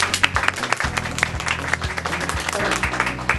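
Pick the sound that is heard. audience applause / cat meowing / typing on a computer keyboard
audience applause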